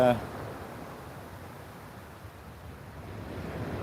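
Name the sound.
waves breaking on shingle beach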